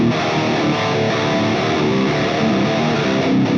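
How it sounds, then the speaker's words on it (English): A distorted electric guitar plays through a Mooer GE200 amp modeler with a cabinet response, a thick, saturated, sustained tone that stays loud and dense throughout with no talking. "So now I've got the distortion."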